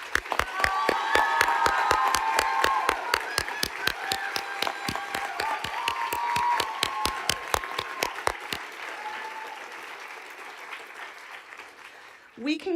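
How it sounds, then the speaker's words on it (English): Audience applause for prize recipients at a college Founders' Day convocation, loud sustained clapping that thins into scattered claps before fading, ending with a brief voice. "Please join me in applauding all of these prize recipients."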